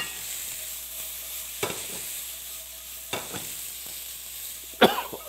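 Onion and carrot hit a hot, oiled pan for a spicy japchae stir-fry. A faint steady sizzle is broken by a few sharp scraping stirs, the last the loudest.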